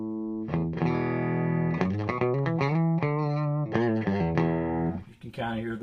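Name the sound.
guitar through Amptweaker PressuRizer compressor pedal, fully wet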